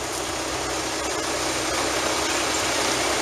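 A Bobcat V723 diesel telehandler engine running, a steady, moderately loud broadband rumble and hiss with no change in pace, heard alone without talking.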